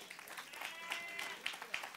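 Light clapping from a congregation during a church service, faint and scattered, with a few sharper claps standing out over a soft wash of room noise.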